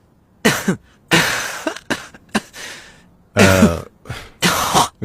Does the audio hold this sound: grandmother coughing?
yes